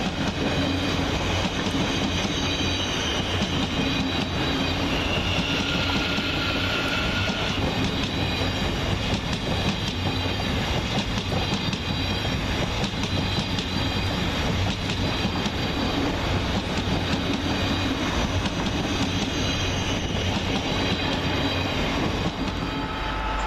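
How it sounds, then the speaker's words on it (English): A Thameslink Class 700 electric train departs Peterborough station, a loud, steady rumble of wheels and motors with rhythmic clickety-clack and faint squeals running throughout. "Next out to depart is 700 123 with the 1354 Kavia Thameslink service to Horsham via London St Pancras International."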